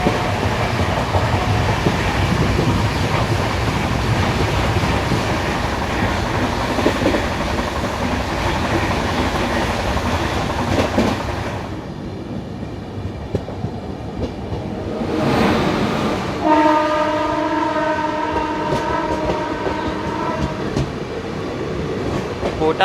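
Kota-Nagda Intercity Special passenger train rumbling past on Indian rails, loud steady clatter of wagons and wheels that eases briefly, then returns with tonal whining and squeal-like harmonics near the end.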